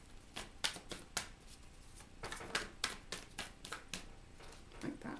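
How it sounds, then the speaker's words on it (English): Tarot cards being shuffled by hand at close range, a series of quick crisp riffles and soft slaps in uneven bursts over a few seconds, quiet and with no talking. "Shuffle one more time here."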